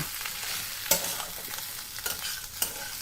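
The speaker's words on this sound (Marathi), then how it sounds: "भाजलेल्या शेंगदाण्याचा कूट दोन मोठे चमचे मिक्स करूया" Crushed roasted peanuts get stirred into a sizzling fasting potato bhaji with lemon juice and coriander, a spatula scraping and clacking against the pan a few times over a constant soft frying hiss.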